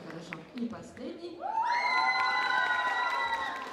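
An audience at a contest with spectators cheers and shouts for the contestants, a loud sustained crowd roar with high voices rising through it after a moment of scattered talk.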